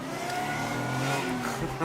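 A car fitted with an added air compressor accelerates along a road closed to traffic, its engine note rising steadily with a strong continuous drone close by.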